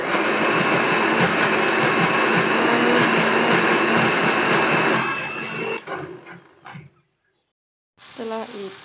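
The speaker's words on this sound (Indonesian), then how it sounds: "Kita blender dulu." A kitchen blender grinds red chili, bird's eye chili, garlic, shallot and tomato into a spice paste. It runs as a loud, steady whir for about five seconds, then cuts out into quieter clatter.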